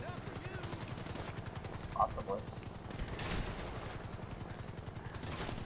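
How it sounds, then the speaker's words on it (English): A helicopter's gun fires in Grand Theft Auto V, a rapid, steady rattle of shots running under a rotor drone, fairly faint, with a brief spoken word partway through. "you're just getting shot at by a helicopter"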